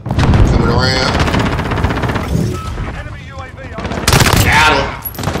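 Hip-fired P90 bursts from a first-person shooter game rattle loudly and continuously, rapid automatic fire that swells again near the end, dense and close.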